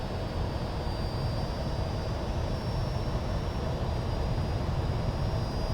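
Twin jet engines of a Fouga CM.170 Magister run at full power in Microsoft Flight Simulator, a steady, loud broadband roar with a thin high whine held constant from start to finish, with no talk over it.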